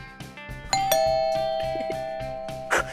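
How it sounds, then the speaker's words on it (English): A two-tone doorbell chime rings out clearly, its bright tones lingering and fading, with a softer repeating beat of background music underneath. "It sounded like a doorbell."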